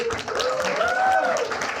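A studio audience at a live Nepali prize-money game show gives a burst of dense, steady clapping, close and sustained, with a rising and falling vocal cheer or whoop riding over it.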